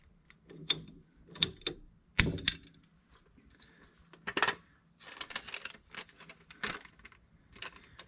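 A pipe being cut with a cutter during a tankless water heater install in a tiny house: a series of sharp metallic clicks and ratcheting bursts in uneven rhythm, close and distinct, with no talking.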